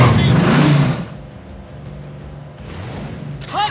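A monster truck accelerates in the Blaze and the Monster Machines video game, a loud engine roar at the start that settles into a lower rumble, with game voices speaking over it.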